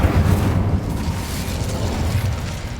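An Incendio fire spell cast in Hogwarts Legacy, heard as a steady, loud, rumbling roar of flame with a deep low-end boom and crackling texture that holds throughout without a clear break.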